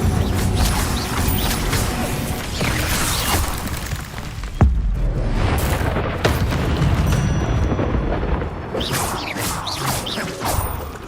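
A spell being cast in Hogwarts Legacy, heard as a loud magical whoosh and boom amid dense game effects and music, with a sharp impact burst near the middle.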